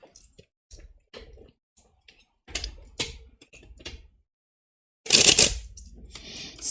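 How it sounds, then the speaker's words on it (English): Crisp bursts of cards riffling and snapping together, a short flutter followed by a louder fuller riffle near the end, close to the microphone with no talking. "Let me just give it another riffle shuffle."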